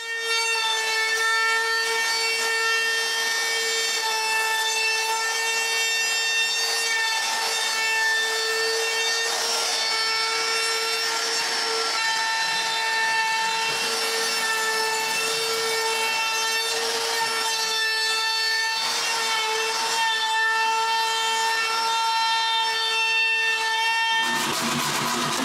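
Corners of a wooden kitchen recycling bin being sanded, a continuous loud whining power-tool drone with steady pitched tones and rough grinding texture, running without pause until it cuts out near the end.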